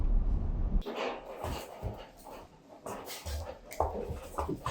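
A dog whimpers and yips in short, high whines, fairly close, over some background noise and faint voices.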